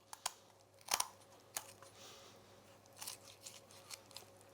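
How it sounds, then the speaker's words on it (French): Kitchen scissors snip and crunch along the backbone of a raw poultry carcass, a series of quiet, irregular sharp clicks and cuts heard close up in a calm room. "Je prends mon ciseau, je vais longer"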